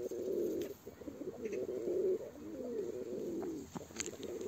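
Village pigeons coo in a steady series of low, throaty calls, close by, with faint background ambience and no talking.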